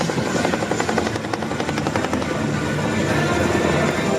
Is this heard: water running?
no